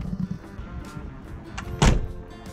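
A VW T4 camper van door fitted with sound deadening shuts once with a single dull, muffled thunk partway through, preceded by faint handling noises and no talk.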